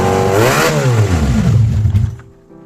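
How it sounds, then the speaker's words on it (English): A motorbike engine run by a custom African-built ECU revs up hard, its pitch climbing and falling through a loud, close throttle blip, then drops away as the engine stalls into near silence. "Another rev for those who love the sound."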